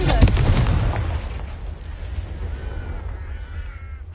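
A Confringo fire-blast spell explodes in Hogwarts Legacy: a sharp, loud burst with a booming rumble that trails off into a fading, crackling tail.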